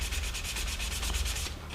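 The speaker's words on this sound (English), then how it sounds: "sanding cross grain" A jewelry piece is hand sanded cross grain with quick, even back-and-forth strokes, a steady rhythmic rasping scrub repeating about eight times a second, close and alone.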